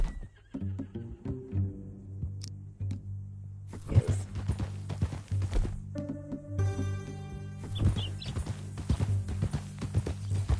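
Horse hooves clip-clop in an uneven rhythm over music in Red Dead Redemption 2 on PS4, with a horse whinnying and snorting nearby and a voice speaking briefly.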